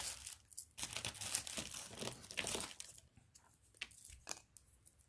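Scissors cut through cardboard for a scrapbook photo album in quiet close-up, a series of crisp crunching, crinkling snips in an uneven rhythm with no voices.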